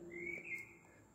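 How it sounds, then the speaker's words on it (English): At about 5 am outdoors, a faint, distant bird gives a single short whistled chirp against quiet background noise. "I hear birds."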